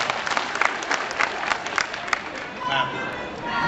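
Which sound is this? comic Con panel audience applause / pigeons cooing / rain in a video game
comic Con panel audience applause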